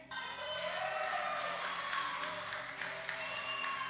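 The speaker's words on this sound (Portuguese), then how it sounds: "Vamos aplaudir Jesus pela vida do Brian." A church congregation claps together, producing a sustained, moderately loud wash of applause that starts abruptly and continues evenly throughout, with no clear speech over it.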